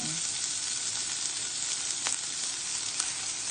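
Garlic and onion sauté in a pan for bihon sinabaw, giving a continuous moderate sizzle with a couple of brief utensil clicks as they are stirred.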